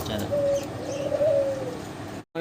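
Lahori pigeons cooing close by, soft low throaty coos repeating over background murmur before a brief cut of silence near the end.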